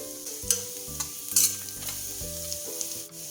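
Turmeric powder frying in oil for chana masala, a close, steady sizzle with repeated scraping stirs and clinks of the spoon against the pan, with no voices.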